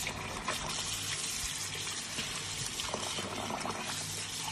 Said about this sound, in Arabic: بنغسل الرز ليصير لون المي ابيض.